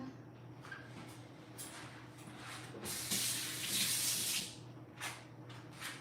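Water runs from a kitchen tap while produce is rinsed for juicing, a soft steady hiss that swells louder in the middle with faint handling clatter, no talking.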